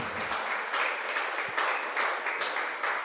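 A church congregation claps together during a Portuguese-language sermon, a steady dense patter of hands with faint rhythmic pulses, fairly distant and moderately quiet.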